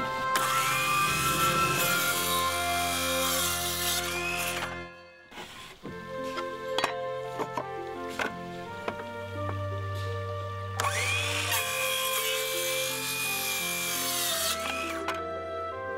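A power saw cuts small wooden brace pieces for repairing a flume, whining steadily for several seconds, pausing briefly with a few clunks and handling sounds, then running again loud and close.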